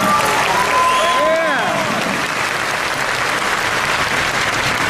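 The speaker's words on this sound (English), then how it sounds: "Can you give all of yourselves one big applause?" Sustained applause rises from a large crowd at a corporate gathering, a thick, steady roar of clapping with a few whoops and whistles riding over it early on.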